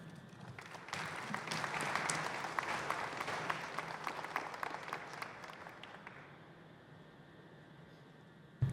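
A crowd applauds at a groundbreaking ceremony for a university residence commons and parking garage, dense clapping rising quickly, holding for several seconds, then thinning and fading into quiet room tone.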